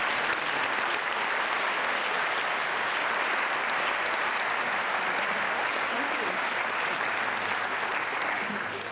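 A business audience at a speaker series with the president and CEO of Molson Coors Brewing Company gives sustained applause, a dense, even wash of clapping that holds steady throughout.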